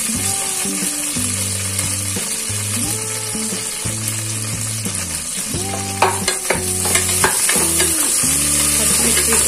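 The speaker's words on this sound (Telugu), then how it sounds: "కొద్దిగా ఆయిల్ ఎందుకంటే ఈ పచ్చిమిర్చి ఇవి వేగడానికి మాత్రమే" Green chillies sizzle and crackle in a little hot oil for palli pulluga, a steady frying hiss with stirring scrapes, rising louder toward the end over a rhythmic tonal backing.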